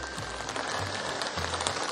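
Rain falls in a steady hiss of drops pattering on surfaces nearby, with no voices.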